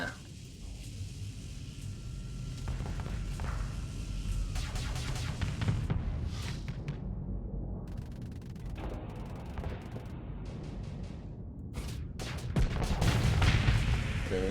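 Ship weapons in the space game Long Haul, including sabot rounds and an antimatter blaster, booming in repeated deep rumbling blasts over a constant low drone, with sharper bright cracks clustered midway and a heavier roar near the end.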